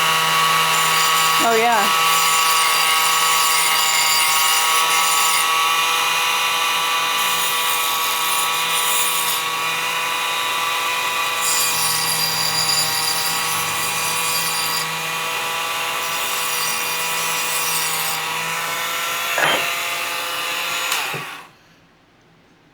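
A Bauer 20V cordless rotary tool spins with a loud, piercing, steady whine that shifts slightly as it bites into material, then winds down and cuts off near the end, with a brief voice early on.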